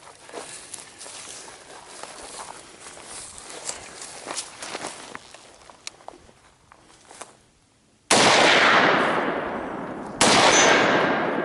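Rifle shots fired at a target on an outdoor overland shooting course: sharp cracks stand out over a loose, noisy background of steps and movement, followed by two loud, sustained blasts of broadband noise near the end.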